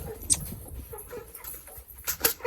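Small young chickens wandering around a backyard coop with pigeons nearby, giving a few faint, scattered high peeps and clucks over low background rustle.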